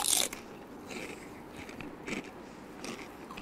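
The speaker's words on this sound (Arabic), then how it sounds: "ظل لي صوت هالقرمشة دي لذيذة" Crunchy broasted fried chicken bitten close up, a sharp loud crunch at the start followed by softer crackling chews, with no talk.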